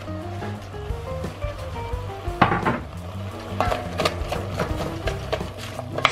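Onions and carrots sizzle and fry in a Dutch oven while being stirred, a steady close crackle with scraping and clinks of a utensil against the pot.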